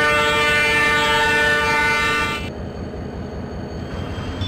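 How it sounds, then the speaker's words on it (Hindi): Long, sustained train horn from a locomotive in Trainz Simulator, loud and rich in tones for over two seconds, then cutting off to leave a steady rumble of the train running beneath. "यहाँ पर हमने एक लंबा सा हॉर्न बजाकर थ्रॉटल भी दे दिया है हमारी ट्रेन का"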